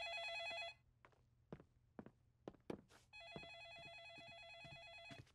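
A telephone rings in the animated children's cartoon Caillou: a bright, multi-tone electronic bell trills loudly at the start, breaks off, then resumes steadily after a stretch of soft thumps and footsteps.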